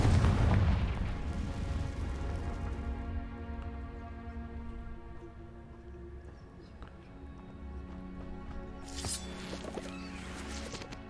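A Confringo blasting spell in Hogwarts Legacy explodes with a loud opening boom that decays into a long ringing, shimmering tail, followed by a fainter crackling burst near the end.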